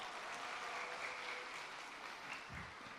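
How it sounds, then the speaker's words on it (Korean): A church congregation at a Thanksgiving Sunday service claps together in a sustained, fairly distant round of applause, steady and even throughout with no voices. "박수 한번 주세요."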